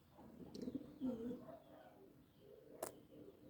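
Pigeons being fed give soft, low, rounded coos in a steady scattering, close by and fairly quiet, with a sharp brief rustle or clap partway through.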